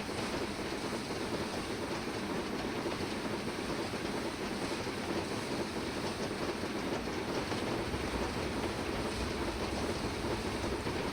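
A moving train on a Scottish railway line gives a steady, loud, unbroken rumble with broadband rolling noise and no distinct clicks, heard alone without talk throughout.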